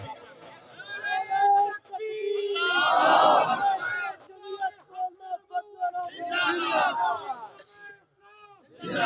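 A crowd at a religious gathering in a stadium in Bhakkar chants slogans. A lead voice shouts each call and the mass of people roars back in loud waves, with lulls between bursts.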